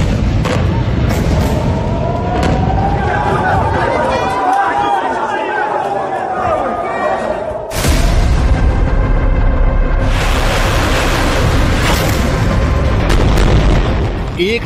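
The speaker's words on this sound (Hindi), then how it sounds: "एक धमाका होता है" Dramatized explosion effect for a news segment on the Israel–Hamas war in Gaza, with loud booming rumble and dense layered noise throughout, a sharp new blast near the middle, and an eerie wavering tone over it.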